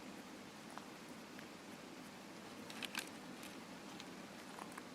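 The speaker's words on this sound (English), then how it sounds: "Why the rain?" Quiet, steady rain patters in a PvP video game, a soft continuous hiss with a few faint crackling drops.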